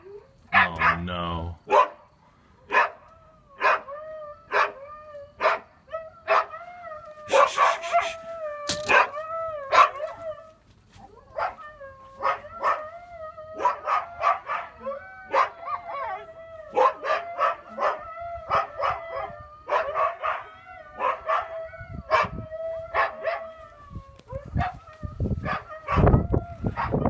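Husky puppies yelp, bark and let out long wavering howls in a rapid repeated series, loud and close, with a few human words mixed in.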